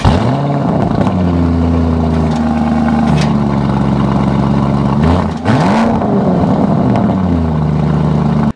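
A Lamborghini Urus Performante with carbon options and large wheels revs loudly and up close, its engine note climbing and falling through several throttle blips over a steady idle with no voices.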